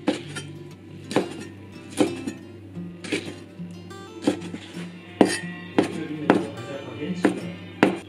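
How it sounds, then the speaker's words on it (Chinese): Knife chopping washed wood ear mushrooms on a board at home, a dozen sharp, evenly spaced thuds with light clinks, close and fairly loud over faint room hum. "木耳已经洗好了，我要把它切一下"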